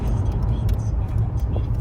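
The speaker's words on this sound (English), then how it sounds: "we'll just take you for a buzz up the road in this lovely low mileage SLK" A 1997 Mercedes SLK 230 Kompressor with automatic transmission driving on the road, its steady low engine and road rumble heard from inside, with some faint voice-like sounds.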